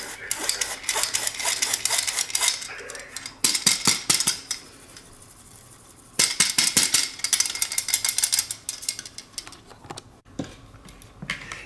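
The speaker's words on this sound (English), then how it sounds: "we're gonna sift it all nicely down into there" Metal sifter rattling and clicking as flour, baking soda and baking powder are sifted into a bowl for a mocha pound cake, in loud, close bursts of rapid tapping separated by short pauses.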